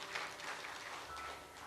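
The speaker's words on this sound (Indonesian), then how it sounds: "Berikan tepuk tangan yang meriah begitu." A church congregation claps during a sermon, a faint, distant patter of applause that stays steady through the brief moment.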